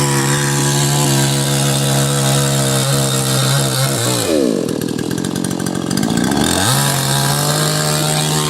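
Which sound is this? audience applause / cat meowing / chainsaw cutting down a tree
chainsaw cutting down a tree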